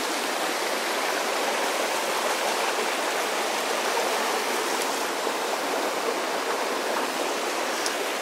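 Steady, broadband rush of a flowing stream on the Appalachian Trail near Erwin, Tennessee, continuous and fairly close, with no voices and no change in level throughout.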